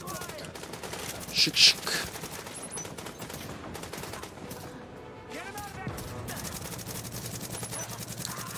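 Rapid turret gunfire in the video game Where Doctors Dare, steady bursts of shots running through the whole stretch at moderate loudness beneath a brief spoken word.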